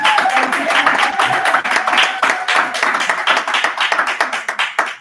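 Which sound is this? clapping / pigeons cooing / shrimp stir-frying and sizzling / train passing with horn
clapping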